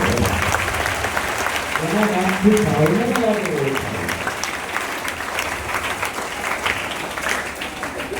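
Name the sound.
seminar audience applause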